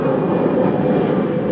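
Airplanes pass overhead near an airport, heard as a loud, steady broadband engine roar that fills the whole moment without letting up.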